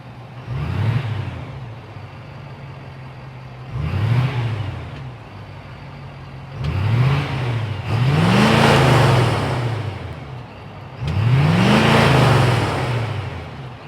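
A 2026 Ford F-250 Lariat Ultimate Tremor with the high-output 6.7-liter Power Stroke turbo diesel idles with a deep rumble. It revs four times in loud, rising surges, each one whooshing before it settles back to idle.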